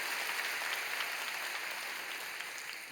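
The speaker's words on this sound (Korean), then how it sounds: "여러분 크게 박수로 환영하시지요" A church congregation at an early-morning prayer meeting applauds in welcome, a brief dense wash of clapping from many hands that fades slightly toward the end.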